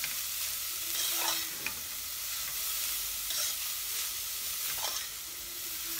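Grated carrot fries in butter for carrot ladoo while a utensil stirs it: a steady close sizzle with a few scraping strokes at intervals, and no talking.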